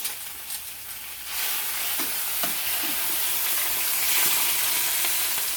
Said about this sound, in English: want to keep on frying these or what?